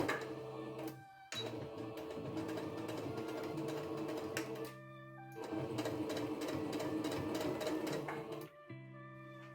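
Sewing machine running over a tablecloth seam, steady rapid needle clatter in several long runs separated by short pauses, close and fairly loud with no voices.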